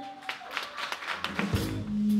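Scattered applause at a charity concert supporting the Ukrainian army, greeting Automaidan activists: a handful of sharp, uneven claps at moderate distance, thin and faint, with a voice and a tonal sound entering toward the end.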